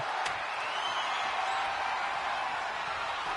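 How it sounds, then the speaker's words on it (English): Steady wash of arena crowd noise from a WWE 2K25 wrestling match, a continuous roar of chanting and cheering that stays level and loud throughout, with no clear words standing out. "For the crowd chanting one more time."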